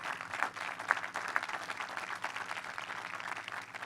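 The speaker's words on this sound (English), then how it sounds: "Does the clapping come off my time?" Audience clapping at an annual town meeting in Hingham, moderate applause from a seated crowd in a hall, fairly even and continuous, a few sharper claps standing out early on.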